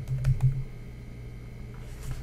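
Close computer keyboard typing on a Windows 10 PC: a few quick key taps at the start, then near quiet with a low hum and a faint tap at the end.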